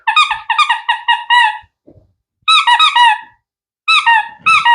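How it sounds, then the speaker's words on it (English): A squeaky dog toy is squeezed in quick bursts, bright high squeals in rapid clusters separated by short pauses, close and loud, during grooming of a Shih Tzu. "Most dogs don't even care about the squeaky toy."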